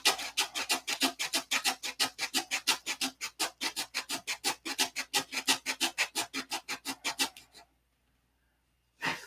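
Balsa elevator of a model plane having its hinge pockets cleaned out: a fast, regular run of close, crisp rasping strokes, about forty in a row, then a sudden stop into silence and one final stroke.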